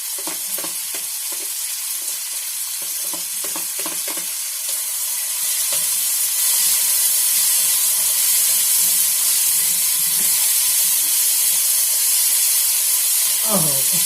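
Green beans dropped into hot oil in a pan where pumpkin is already frying, opening with stirring clatter and then a loud, steady sizzle and hiss that builds and holds, close by.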